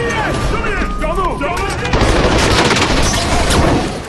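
Dense gunfire rattles through an action-film shootout during a raid, with rapid overlapping shots and crashing impacts, loud and continuous over a few seconds alongside film effects.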